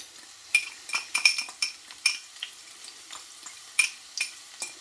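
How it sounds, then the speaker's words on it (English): Garlic and hot scotch bonnet pepper tipped into hot oil in a home kitchen for a vegan vegetable dish, with a steady sizzle beneath repeated sharp clinks and scrapes of a utensil against the pan, close and fairly loud with no talking. "my oil is now hot, so I'm going to go straight in with my vegetables"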